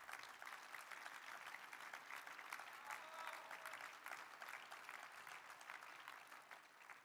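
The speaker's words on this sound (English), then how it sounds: "Applause." An audience at a political speech in Hungary breaks into sustained applause, a dense wash of many hands clapping that holds steadily for several seconds, fairly distant and with no voice over it.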